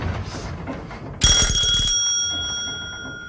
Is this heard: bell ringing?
yes